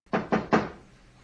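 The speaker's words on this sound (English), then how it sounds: "suddenly you've got a knock at the door" Three firm knocks on a door, evenly spaced and close, each ringing out briefly before fading into quiet.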